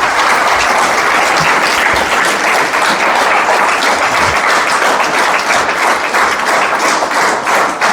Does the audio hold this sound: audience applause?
yes